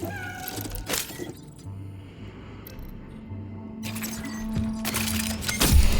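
Cats meow repeatedly in the horror video game Cronos: The New Dawn, moderately loud and close, with sharp clattering bursts and a steady low game hum running beneath.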